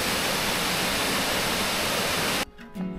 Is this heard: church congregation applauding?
no